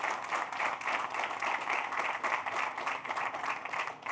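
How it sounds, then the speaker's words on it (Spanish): A crowd applauds the MIDA agricultural team at a community gathering in Colón, Panama, giving steady, sustained clapping from many hands at moderate distance, with faint voices mixed underneath. "yo voy a pedirle un aplauso a ese equipo del MIDA"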